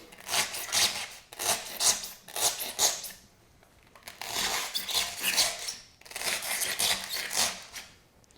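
A blade saws through a foam block for a largemouth bass skin mount form, making repeated raspy strokes in rhythmic bursts with brief pauses between, close and moderately loud.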